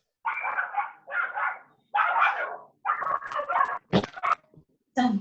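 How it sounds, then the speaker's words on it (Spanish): A dog barks and yips repeatedly in short bursts, loud and close, ending in a couple of sharper whimpering yelps. "Alguien está luchando con un perro ahí."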